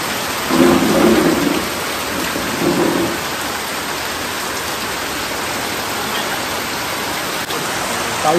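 Heavy rain pours steadily during Diwali in rural Konkan, with a low rumble of thunder rolling early on before the downpour settles into a constant close hiss.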